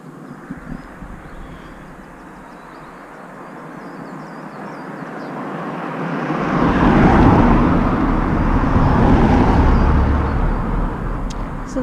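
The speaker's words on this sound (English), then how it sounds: "So that road that those cars have just come down from is Jiggers Bank." Cars driving down Jiggers Bank, a road descending into Coalbrookdale, their engines and tyre roar swelling from a low rumble to a loud close pass, then slowly easing off.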